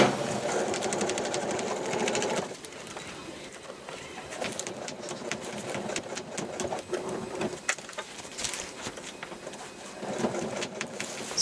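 A sewing machine top-stitches thermal window cover fabric with a narrow seam allowance, a close, steady rapid whirring stitch that runs in short bursts with brief pauses and faint handling noise.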